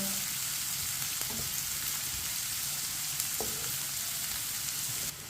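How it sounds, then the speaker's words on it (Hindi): Onions frying in a pan over a medium flame for egg karela, a steady close sizzle with a few faint stirring clicks, no talking. "प्याज को भी मैंने साथ 2 मिनट के लिए फ्राई कर लिया"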